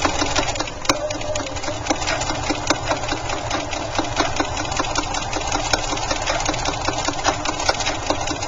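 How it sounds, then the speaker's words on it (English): A sewing machine runs steadily, stitching a 1/2 inch seam slowly through very thick fuzzy fabric for a bag, producing a loud, continuous mechanical hum with fast regular clicking and periodic sharper knocks, close up. "I'm sewing inside outwards right over the fuzz."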